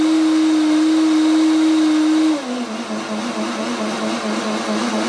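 A Kuvings SV-500 vacuum blender motor whirs loudly and steadily, then its pitch drops partway through and it keeps running at a lower, rougher hum.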